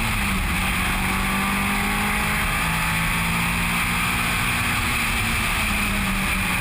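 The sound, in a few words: onboard Mitsubishi Evo Lancer race car engine at Eastern Creek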